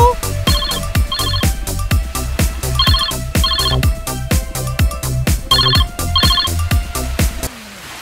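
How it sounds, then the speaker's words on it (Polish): Telephone ringing in repeated double bursts, loud and close, over a steady rhythmic musical backing with thumping beats, stopping near the end. "Mógłbyś odebrać ten telefon? Telefon dzwoni!"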